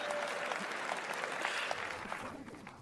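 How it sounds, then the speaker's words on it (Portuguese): Applause from an audience after a spoken-word poetry talk, a dense, sustained patter of many hands at moderate level, easing slightly toward the end. "Risos. Aplausos."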